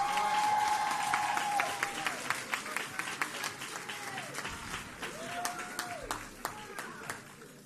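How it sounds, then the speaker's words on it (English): Scattered but steady hand clapping rises from an audience at an oratorical contest awards ceremony, individual claps standing out sharply, with a voice and a faint tone heard beneath. "please give them another round of applause."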